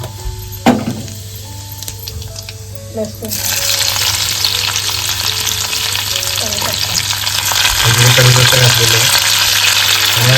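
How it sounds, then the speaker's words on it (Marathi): Mustard seeds and cumin hit hot oil in a wok, tempering for a field bean (val) curry; a quiet start gives way to a sudden loud, steady crackling sizzle that swells toward the end, close by. "कढईमध्ये तेल घालून सर्वात पहिले तर एक चम्मच राई घालून घेते एक चम्मच जिरा घालते"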